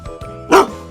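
A Dogo Argentino, a large Argentine dog breed, gives a single short, sharp bark that stands out close and loud between quieter rustling sounds.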